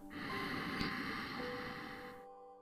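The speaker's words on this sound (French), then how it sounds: "J'inspire doucement." Slow, gentle breath drawn in through the nose, a soft airy rush close to the microphone that swells and fades before ending in quiet.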